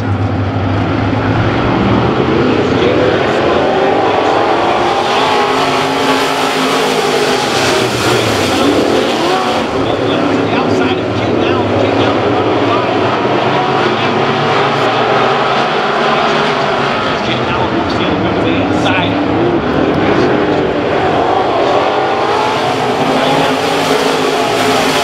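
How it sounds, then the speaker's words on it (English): USRA B-Mod dirt-track race cars in a heat race at Humboldt Speedway, a loud continuous roar of several engines rising and falling as the pack circles the track, sweeping nearer and farther with no break. "This is heat race number two of your Race Metal Depot USRA B-Mods."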